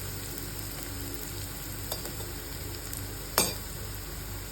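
Onions with chilli powder stirred in a frying pan, a low steady sizzle under a few scattered clicks and one sharp scrape of the utensil against the pan, no talking.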